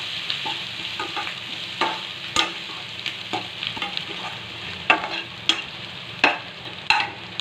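Sliced onions fry in a pan with a steady crackling sizzle, while a spatula scrapes and clicks against the metal at irregular intervals, close and without talking.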